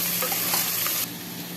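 Chilli powder and coriander powder being stirred into a frying pan for a brinjal curry, a soft scraping stir over a steady low sizzle, close and brief.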